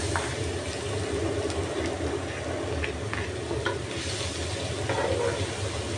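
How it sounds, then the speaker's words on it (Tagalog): Garlic sautés in hot cooking oil for Filipino-style spaghetti, producing a steady close sizzle and crackle with a few light clinks from the pan, and no one speaking. "So ayan, mainit na yung ating mantika. Ilagay ko na yung ating bawang."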